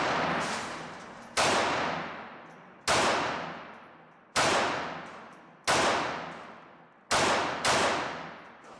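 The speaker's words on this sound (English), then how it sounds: "Racking is noticeably easier, and the felt recoil is very good." Slide of a Walther PPK/S pistol racked repeatedly during tabletop recoil spring testing; six sharp metallic clacks, each with a fading ring, spaced about 1.5 seconds apart, loud and close with no talking.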